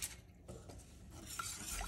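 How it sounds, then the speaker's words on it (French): A spoon works vigorously through béchamel sauce in a pan, making quiet, continuous scraping and stirring with faint liquid sloshing and a few light knocks against the pan. "je viens mélanger le tout avec énergie"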